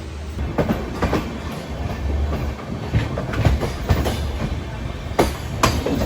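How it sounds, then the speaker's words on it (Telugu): A superfast express train rushes past nearby on an Indian railway line, with loud rumbling and rhythmic clickety-clack of wheels on rails throughout. "ఈ వెనకాల ఉంది కదా సూపర్ ఫాస్ట్ ఎక్స్ప్రెస్, దాన్ని పంపించాక మన ట్రైన్ పంపిస్తారు"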